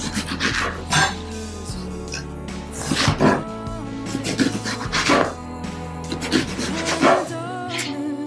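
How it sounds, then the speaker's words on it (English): A knife slices through eggplant into strips on a board, making close, rasping cuts in an uneven rhythm over a faint background hum, with no talking. "Slice the eggplant horizontally into strips about this thick."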